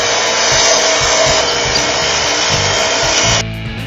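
A grinder buffs and polishes a black buck antelope horn, a loud, steady, close whirring roar that holds throughout and then drops sharply in level near the end.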